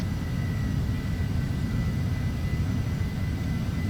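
Airliner rolling down the runway for takeoff in Flight Simulator X, a steady low engine roar and rumble that holds constant throughout, with no one talking.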